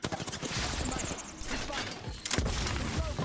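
Bursts of close gunfire in the battle royale shooter Apex Legends, rapid shots and impacts crackling under a voice speaking.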